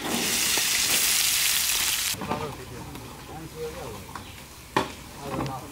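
Chopped onion frying in hot oil in a pan while cooking a Bengali catla fish curry, a dense loud sizzle for about two seconds that drops away, leaving softer crackling and stirring clatter with a few sharp clinks.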